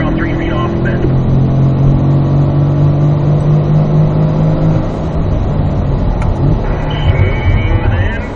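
A Corvette on a race track, its engine droning loud and close as it accelerates, the pitch climbing steadily before easing off, with a voice speaking faintly underneath at points.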